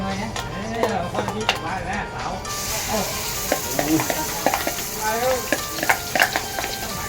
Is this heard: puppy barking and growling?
no